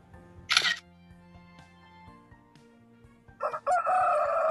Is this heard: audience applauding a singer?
no